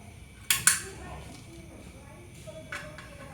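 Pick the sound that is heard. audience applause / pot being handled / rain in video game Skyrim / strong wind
pot being handled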